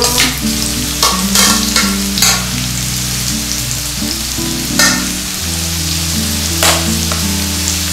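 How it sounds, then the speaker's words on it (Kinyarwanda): Potatoes frying in a moderate amount of oil in a pan give a continuous close sizzle, with repeated scraping and clattering as pieces are added and turned. Tonal background music plays throughout. "shyiramo amavuta atari menshi kandi atari na make kugira ngo ibirayi byacu bifate amavuta ngenda ushyiramo ibirayi byacu"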